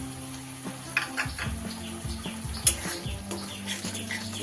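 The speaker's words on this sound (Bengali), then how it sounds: "এইবারে কাজু আর কিশমিশ বাটাটা দিয়ে দিলাম।" A cashew and raisin paste fries with spices in a pan for katla fish korma, giving a soft, steady sizzle with scattered scrapes and clinks of stirring.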